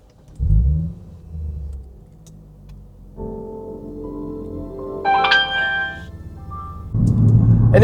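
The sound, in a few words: Lexus IS350 car engine driving off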